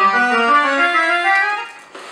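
Sustained notes from a Roland digital accordion, several layered tones held together, steady and clear at close range, then thinning and fading near the end.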